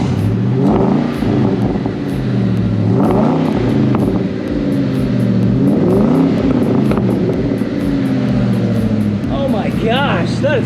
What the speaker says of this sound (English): this is the first official startup with the new MagnaFlow Magnapacks